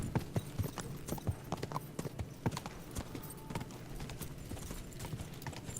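A horse gallops in the medieval game Kingdom Come: Deliverance, its hooves striking in quick, regular clip-clop beats. The hoofbeats sound close and crisp over a continuous low background, and nobody speaks.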